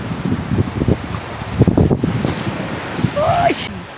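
Sea waves wash onto the shore in a broad rushing hiss, broken by gusty wind buffeting the microphone and soft low voices nearby.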